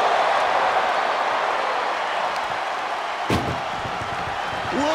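An ambulance door slams shut once with a heavy metallic bang during a wrestling match in WWE 2K24, over a constant roar of arena crowd noise.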